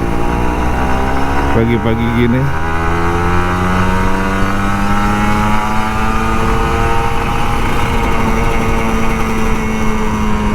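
A Kawasaki Ninja RR 150 motorcycle engine hums steadily, rising and falling through gear changes on an early morning ride, with someone talking over it.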